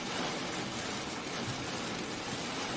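Steady rain during a severe weather outbreak, a dense continuous hiss of drops close by that holds at one level for the whole stretch with no other sounds over it.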